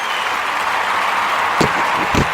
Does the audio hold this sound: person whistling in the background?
no